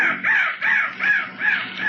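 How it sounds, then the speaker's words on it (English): A crow caws four times in a steady rhythm, each harsh call close and loud, used as a sound effect in a 1945 radio drama set near a marsh. "That crow was the bird of death."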